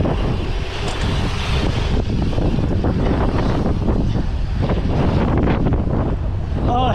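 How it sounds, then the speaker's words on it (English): Strong headwind buffets the microphone of a mountain bike rider on bike park trails, a loud continuous roaring rush that surges and wavers for the whole stretch, with no speech over it. "headwind"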